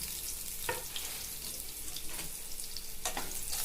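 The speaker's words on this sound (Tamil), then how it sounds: "அதுக்கப்புறம் வந்து கட் பண்ணி வச்சுருந்த ஆனியன் ஆட் பண்ணிக்கிறோம்." Chopped onion frying in a pan for homemade pasta, a steady close sizzle with occasional stirring scrapes and no talk.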